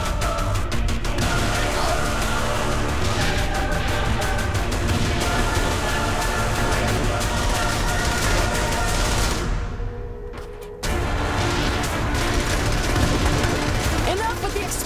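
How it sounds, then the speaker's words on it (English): Explosions and gunfire from Saints Row 3 fill a continuous, loud, dense barrage, dropping away briefly before resuming at full intensity, with voices partly mixed in. "Enough with the explosions."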